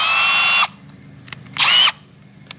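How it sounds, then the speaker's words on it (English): Power drill fitted with a masonry bit, set to hammer mode for drilling into concrete, whines loudly in two separate bursts, a longer one then a shorter one, with quiet gaps between them. "this is our drill bit."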